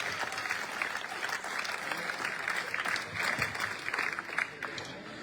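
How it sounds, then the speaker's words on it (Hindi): Villagers clap together at an outdoor open-gym inauguration, a loud, sustained burst of crowd applause with faint voices mixed in. "जोरदार तालियां"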